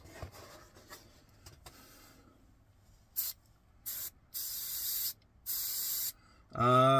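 Short bursts of airbrush paint spray hiss at about 30-35 psi onto a 1/25 scale model car body, four or five in a row with pauses between, close and steady, followed by a louder burst at the end.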